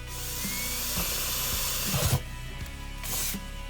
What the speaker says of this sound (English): I'm gonna take my drill and one of my largest drill bits, and I'm just gonna drill a hole here